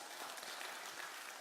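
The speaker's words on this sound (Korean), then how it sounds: "우리 박수 한번 쳐줍시다" Church congregation applauding during an afternoon praise service, a steady broadband patter of many hands clapping at once, continuous and fairly faint throughout the short stretch.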